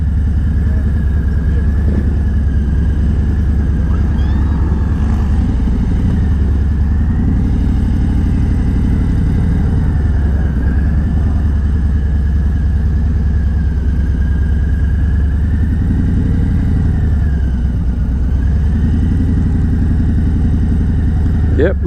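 Motorcycle engines idling steadily at close range as bikes are parked at a rally in La Manga, a continuous low rumble with occasional light throttle blips, with people talking over it.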